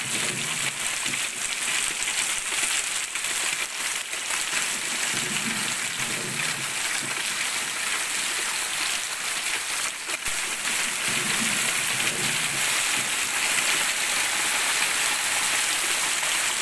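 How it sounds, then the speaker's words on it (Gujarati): Heavy torrential rain falling in Sangana near Talaja, Gujarat, a dense, steady hiss of downpour across the whole stretch, fairly close and unbroken, with no talking over it. "તમે અત્યારે પડી રહેલા વરસાદની સ્પીડથી જ અંદાજો લગાવી શકો છો કે કેવી મૂસળાધાર બેટિંગ મેઘરાજાએ"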